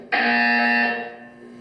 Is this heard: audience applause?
no